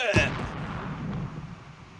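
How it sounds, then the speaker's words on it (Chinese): A boiler explosion sound effect in a period drama: one loud burst right at the start, followed by a rumbling, fading tail. "谁家锅炉炸了？"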